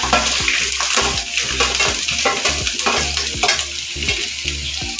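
Ginger frying in a pan for a Kerala-style mango and carrot pickle, giving a steady, loud hissing sizzle with occasional stirring scrapes, heard under a rhythmic musical backing.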